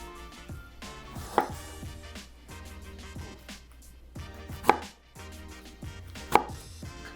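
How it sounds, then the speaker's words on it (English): Knife chopping into tomatoes on a cutting board while cutting the cores out of the bottoms, close, sharp knocks at irregular intervals over quiet background tones, with three louder thuds standing out. "You're just cutting a little triangle out of the bottoms of them."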